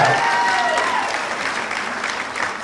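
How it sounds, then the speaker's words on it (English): Audience applause at the Rose of Tralee event in Down, a steady, dense wash of clapping from a large crowd that carries on throughout, with a faint tone sweeping through early on. "Give her a round of applause"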